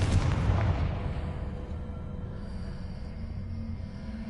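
A Confringo fire spell goes off in Hogwarts Legacy: one loud explosive boom at the start, then a rumbling tail that fades into steady low background noise.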